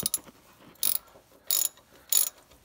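A ratchet loosening bolts on a Porsche 914 engine gives three quick, sharp bursts of clicking, separated by short pauses, close and fairly loud, with no voices.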